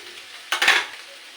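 Teasel gourd and potato frying in a pan, with a faint low sizzle that briefly swells as a utensil scrapes and stirs through the pieces, then settles back.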